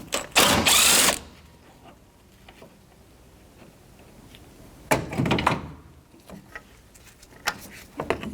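A 10mm socket ratchet works on the alternator mounting bolts of a 2006-2012 Toyota RAV4, with a long loud burst of clicking, then quieter intermittent clicks, clunks and a second burst of ratcheting.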